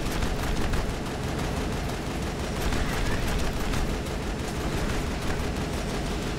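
Sustained, near-continuous automatic fire from the player's weapon in Mass Effect, a dense loud rattle of shots running the whole time with no pauses and no talking.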